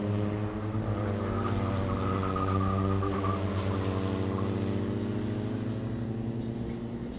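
Micro MAX racing karts roll in formation toward the start of a final heat in the 2022 NTC Challenge Cup, round four: a steady, loud, buzzing blend of several two-stroke engines droning continuously and close by, with no voices.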